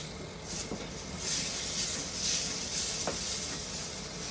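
Vegetables sizzle steadily in rendered pork fat in a pan, a continuous hiss with occasional faint stirring clicks and no voices.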